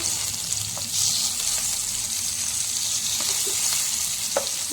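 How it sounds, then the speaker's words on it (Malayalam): Pieces of mullu vaala fish fry in hot oil in a pan, a steady close sizzle with occasional soft taps and scrapes as the pieces are flipped one by one. "മീൻ ഒരു സൈഡ് വെന്ത് വന്നു. നമുക്കിത് ഓരോന്നായിട്ട് മറിച്ചിട്ട് കൊടുക്കാം."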